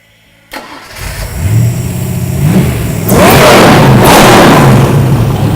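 Car engine cranking over and catching, then revving hard with a raw, loud exhaust roar after the mufflers blew off, two sharp throttle surges close up with no talking.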